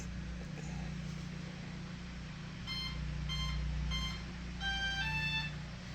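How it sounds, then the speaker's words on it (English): Two electronic speed controllers on an RC model give several short beep sequences over a steady low hum, tones stepping up in pitch, fairly faint. "the 2 electronic speed controllers should go beep, beep, beep, beep, beep"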